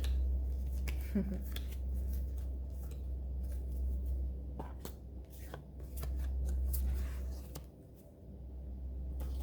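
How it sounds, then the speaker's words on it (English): Tarot cards shuffled by hand outdoors in the wind, a soft continuous riffling and sliding with scattered light taps over a steady low wind rumble, fairly close and moderately quiet. "I'm gonna pull up these cards so that I can shuffle the messages"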